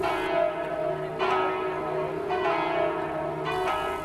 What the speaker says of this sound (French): Dans le lointain sonnent les cloches de l'église de Tôtes qui annoncent la fin de l'office.